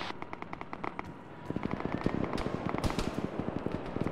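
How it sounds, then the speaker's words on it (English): Rapid bursts of gunfire in the military shooter game Arma 3, a sparse crackle of shots at first that thickens into dense, repeated volleys and sharp cracks at middle distance. "Uh oh, something's shooting."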